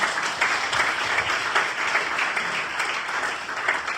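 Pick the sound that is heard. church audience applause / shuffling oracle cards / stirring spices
church audience applause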